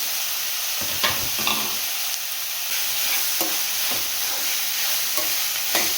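Capsicum sizzling and frying in hot oil with no water added, a steady bright sizzle broken by repeated stirring scrapes and clatters, close up and alone with no talk.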